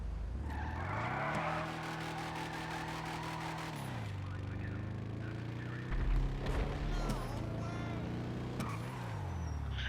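Lowrider car engine in GTA Online revving up and settling back, with stepped pitch changes and some tire squeal, heard clearly with no talk over it.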